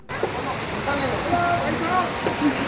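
Banjhankri waterfall near Gangtok, Sikkim, a large fall dropping from a high hillside, roars as a steady, loud broadband rush that fills the whole scene, with voices audible faintly beneath the water.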